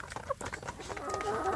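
Indonesian village chicken chicks cheep and cluck softly in a farm pen, giving short scattered peeps and chirps against faint background noise.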